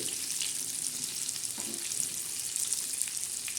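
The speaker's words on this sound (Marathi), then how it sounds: "ही बघा आपली मच्छी अशी कशी मस्त खमंग अशी छान अशी कडक अशी तळणार आहे" Fish pieces shallow-frying crisp in hot oil in a home kitchen, a continuous close crackling sizzle with bright spitting pops throughout, no voices.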